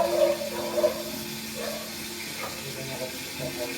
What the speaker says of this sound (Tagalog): Lagyan muna natin ng mainit na tubig.